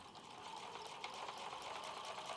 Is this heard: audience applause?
no